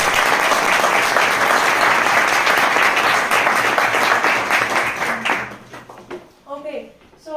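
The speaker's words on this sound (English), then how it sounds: "I would like to start with a nice round of applause for Victoria" An audience applauds Victoria, who teaches English at an elementary school, with dense, steady clapping that fills the room for about five seconds before thinning out and fading into quiet.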